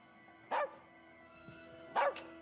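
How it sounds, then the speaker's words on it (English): A nervous dog barks twice indoors, two short sharp barks about a second and a half apart, fairly close over a steady background hum. "He's a dog. He doesn't have an off switch."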